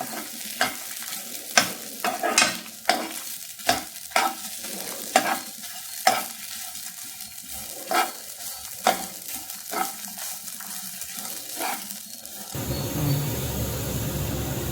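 Grated coconut is sautéed in a pan for homemade sambar masala, with a soft continuous sizzle and repeated sharp scrapes and taps of a spoon against the pan. The stirring stops near the end and a different background hum takes over.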